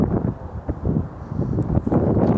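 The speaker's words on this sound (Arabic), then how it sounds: "فهي يعني رياح قوية بملعب القرية الرياضية" Strong wind buffeting a microphone at a village sports stadium during a football match, a continuous low rumbling roar with uneven gusts throughout and no audible voices.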